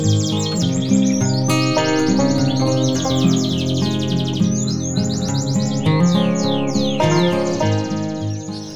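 Canaries in a breeding cage chirp and trill almost without pause, loud and close, several birds overlapping in bright rapid song phrases with no speech.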